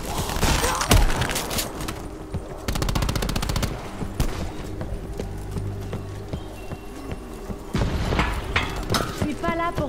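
Gunfire from shooting monsters in Call of Duty: Black Ops 4, a rapid run of loud shots and bursts in dense clusters amid game noise, with busy stretches early on and again near the end.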